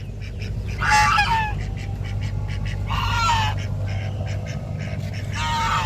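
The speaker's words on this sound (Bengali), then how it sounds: "দুটো রাজহাঁস কেমন টুকটুক করে আসছে" Two geese, one small and one large, walk along a path beside a pond in a botanical garden during the monsoon, giving three loud, close nasal honking bursts over a low background hum.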